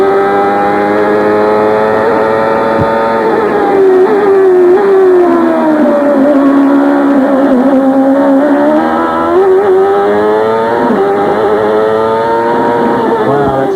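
A CART race car with a sequential gearbox screams at high revs near the 1996 Surfers Paradise street circuit, bouncing on the rev limiter and dipping and rising in pitch, loud and sustained with no talk.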